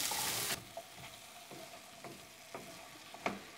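Ginger, garlic and carrot sautéing in a soup pot, starting with a loud hissing burst that fades to a quiet sizzle with several soft stirring knocks.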